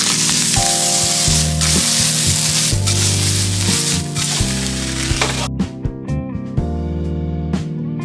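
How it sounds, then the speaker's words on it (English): Ham sizzles fast in a frying pan, a bright crackling hiss running beneath loud tonal music, with the sizzle dropping away briefly partway through before returning. "That's sizzling pretty fast."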